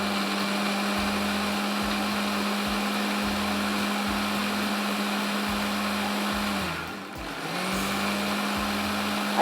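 A blender grinds almonds and pistachios into a paste for a yellow curry pasta sauce, a loud, steady motor whir with a low rhythmic thumping underneath that briefly dips and recovers near the end.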